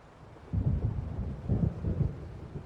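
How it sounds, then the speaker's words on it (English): A deep, rolling rumble of thunder from an approaching storm builds in low, uneven pulses over a faint windy background in Alan Wake Remastered, a video game. "It seems there's a storm coming."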